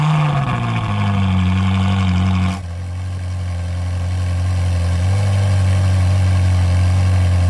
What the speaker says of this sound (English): Of course, it's a naturally aspirated engine.